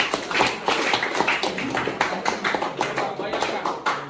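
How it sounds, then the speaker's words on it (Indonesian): A classroom group of students claps in a fast, dense burst of close applause lasting a few seconds, with voices mixed in under the clapping. "tepuk tangan buat kelompok ini"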